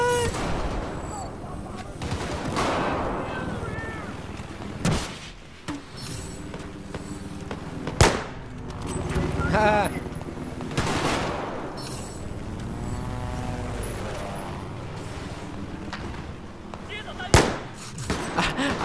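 Gunfire in the video game Battlefield 4, with rapid bursts and sharp shots, some near and loud, others distant, over continuous battle noise and engine rumble, with someone talking excitedly throughout.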